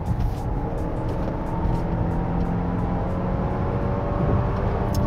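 Genesis GV80 or Audi Q8 SUV accelerating on a test drive with steering and lane assist switched off, a steady low engine and road drone heard from inside the cabin, continuous and moderately loud with no talk.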